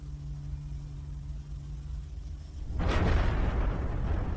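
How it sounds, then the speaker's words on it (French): Explosion on the Deepwater Horizon offshore oil drilling platform: a low steady hum gives way to a sudden loud, broad blast that swells into a sustained, heavy roaring rumble. "une explosion se produit sur la plateforme Deepwater Horizon"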